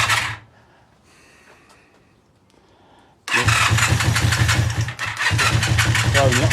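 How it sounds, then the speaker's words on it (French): An engine being restarted after its fuel pump was refitted: near silence, then it catches abruptly and runs loud and steady with one brief dip before picking up again. "tu peux essayer de la redémarrer après que ça passe."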